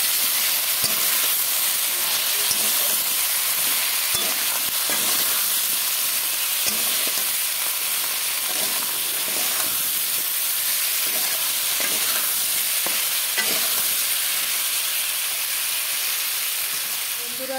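Potatoes with turmeric fry in a pan with a loud, steady sizzle and hiss, while repeated stirring strokes scrape through the oil for the whole stretch.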